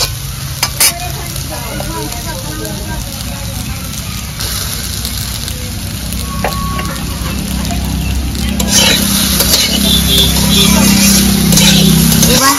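Spices fry with chopped green chillies and turmeric in a pan for a prawn and taro stem dish, a steady loud sizzle and crackle that builds toward the end, with occasional stirring clatter beneath.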